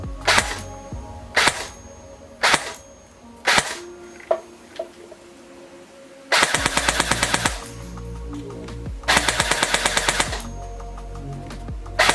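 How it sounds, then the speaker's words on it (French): Cyma M16A1 airsoft electric rifle (CM009C Mosfet edition) firing in a shooting test: several loud single shots with clicking mechanism noise, then two long rapid full-auto bursts, all close and with no talking. "Test de tir du M16A1 de chez Syma."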